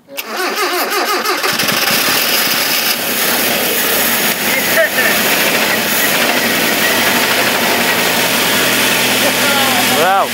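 A 1970s Japanese rear-wheel-drive coupe, a barn find, fires up and runs steadily with a loud, close, even engine note and slight throttle rises, while people talk over it.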